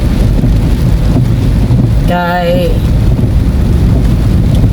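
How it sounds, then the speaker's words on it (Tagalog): Heavy rain pours down on a road at night, making a loud, dense, continuous hiss that fills the whole stretch, with a brief voice near the middle. "Usog kayong ulan."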